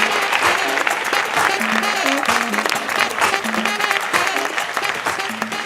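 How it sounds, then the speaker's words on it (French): Audience at a live comedy show applauding, a dense, steady wave of clapping filling the room, with some voices and a melodic tone underneath throughout. "Un tonnerre d'applaudissements pour Oumar Mané"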